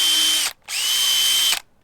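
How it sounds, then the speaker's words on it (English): A power drill fitted with a number 4 bit whirs in two close, loud bursts, the first about half a second and the second longer, separated by a short stop. "I have a drill with a number 4 bit on it."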